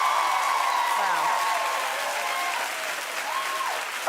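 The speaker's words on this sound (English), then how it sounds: "Clap if now you know better." A television talk show studio audience claps in a sustained, dense burst of applause that carries on steadily for several seconds, with faint voices mixed in.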